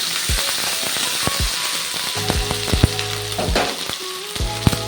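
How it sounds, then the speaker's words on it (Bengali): Onion frying with ginger-garlic paste in a pan for a prawn and Malabar spinach dish, a steady loud sizzle broken by repeated scraping stirs and sharp spatula knocks against the pan. "আদা রসুনের পেস্টটা দিয়ে পেঁয়াজটার সাথে ভালোভাবে নেড়ে চেড়ে আমি ভেজে নিচ্ছি।"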